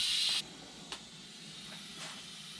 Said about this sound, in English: we still have some steam coming out, and you do not want to attempt to take this lid off until that has completely vented itself